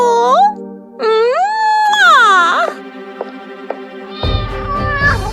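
Several high, plaintive kitten meows sound up close, rising and falling in pitch, one after another, with a rustling rumble toward the end.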